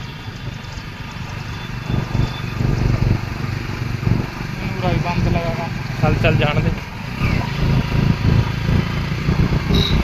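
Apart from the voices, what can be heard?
motorcycle engine running in first gear uphill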